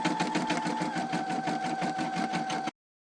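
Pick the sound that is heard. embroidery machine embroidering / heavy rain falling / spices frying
embroidery machine embroidering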